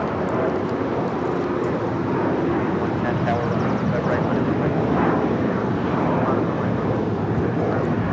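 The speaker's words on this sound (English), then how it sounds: "This is United Airlines 1791 taking off to San Francisco on the 737-900ER." A United Airlines Boeing 737-900ER takes off from LAX with a steady, loud jet roar that holds throughout, while voices talk faintly underneath.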